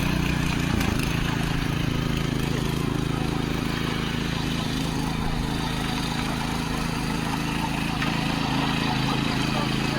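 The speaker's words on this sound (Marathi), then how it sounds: "काकी ट्रॅक्टर चालवता." A tractor engine runs steadily at a moderate, even pitch as a woman drives it slowly through a flooded paddy field in the Konkan at rice-planting time. Voices talk over the drone.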